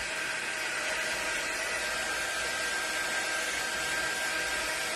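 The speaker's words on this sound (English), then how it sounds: "Now I'm using my drying tool. It's more of a focused air, and it gets warm." A handheld drying tool blows warm, focused air in a steady close rush with a thin whine, continuous and unbroken for the whole stretch.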